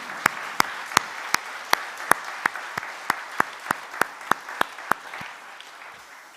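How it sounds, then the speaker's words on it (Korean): Sparse, evenly spaced claps ring out in a Korean church service as the congregation gives a short round of applause on Palm Sunday, about fifteen crisp hits slowing and fading out over six seconds. "우리 주 예수도 주님 앞에 한번 영광의 박수 한번 드릴까요"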